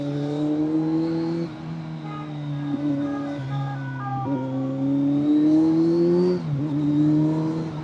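A Kawasaki Z900 superbike in Bangalore city traffic revs hard, then drops into engine braking; the strong, close exhaust note rises and falls in pitch through repeated throttle blips and deceleration, with no speech.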